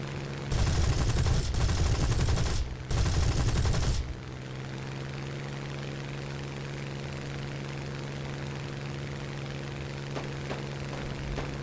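Spitfire Mk.Vb machine guns firing in War Thunder: two loud, sustained bursts of rapid fire fill the first four seconds, followed by a steady aircraft engine drone on its own.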